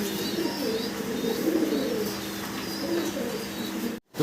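Pigeon pairs at a wholesale pigeon sale coo repeatedly in soft, low, throaty phrases, overlapping one another over a steady background hum with no talking.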